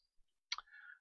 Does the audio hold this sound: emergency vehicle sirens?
no